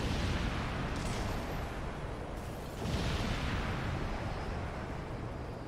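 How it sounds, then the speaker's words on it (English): Bomb blasts in the video game Earth Defense Force 4.1 roll out as a dense, continuous rumble of booms and bursts, with a louder swell near the middle and no voices over it. "My bomb drop was short."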